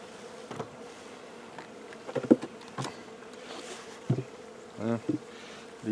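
Honey bees buzz in bursts over a low steady hum around a hive being robbed, with several sharp passes flying close by and no voices.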